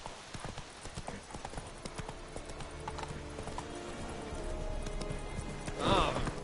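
Hooves of Roach, a horse in The Witcher 3 game, clip-clop steadily at a trot, close and fairly loud, with a brief louder burst near the end.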